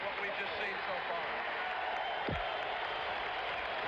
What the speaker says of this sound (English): You can hear the crowd in the Memorial Coliseum.